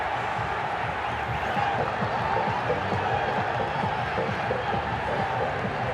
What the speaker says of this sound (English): The crowd are behind them.